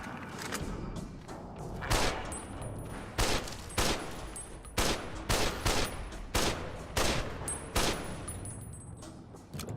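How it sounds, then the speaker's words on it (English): Automatic rifle in Fallout: New Vegas Dead Money, fired in repeated short bursts, each a loud cluster of rapid shots separated by brief pauses, with a faint high ringing tone in the background. "Let's try the automatic rifle."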